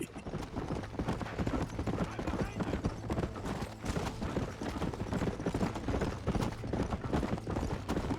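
A horse gallops at a quick rhythmic clip-clop in the video game Red Dead Redemption, hoofbeats steady and close over a low background hum.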